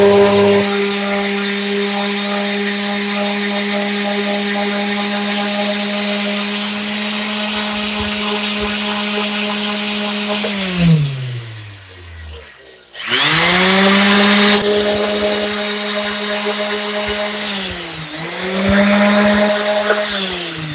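Power sander working over oak cabinet doors, a loud steady whine that runs continuously, briefly spins down and stops near the middle, then starts up again and keeps sanding.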